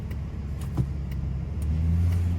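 A truck engine idles with a steady low rumble that swells louder and fuller toward the end, close by, with no talk.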